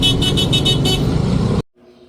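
Behind police on the C5 road, a car horn beeps in a quick series of short repeated toots over loud engine and traffic noise, which then cuts off abruptly to near silence.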